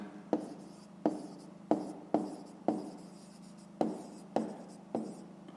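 Pen writing out the answer to a fifth-grade math exercise on paper, a soft close series of evenly spaced scratchy strokes, each a quick tap then a short scrape, with no talk over it.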